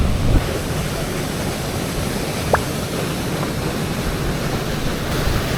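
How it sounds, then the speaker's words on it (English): Rushing water diverted from a high, flood-swollen river in Vienna, a steady loud broadband roar with no pauses, close by and with no talking. "They're already getting water out of the river."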